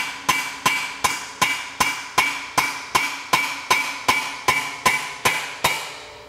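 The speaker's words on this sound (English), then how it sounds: "you can use a chisel the hit against on the weld" A hammer strikes a chisel against a weld on a 1978 Vespa P200E during an engine rebuild, about thirteen sharp metallic knocks at a steady, even rhythm, close and loud with brief ringing decays.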